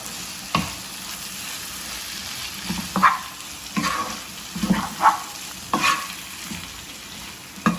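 A spoon stirs bilimbi pickle with dried tamarind, giving a steady wet squelching and scraping with regular, fairly loud strokes and no voices.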